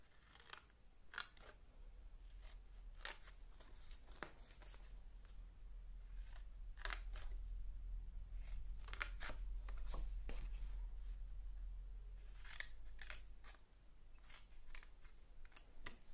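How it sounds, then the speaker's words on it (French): Scissors snipping angled cuts into the folds of paper for a small chocolate box, a quiet run of crisp, separate snips, some in quick pairs, close and alone. "On va couper tous nos plis ici en biais, légèrement"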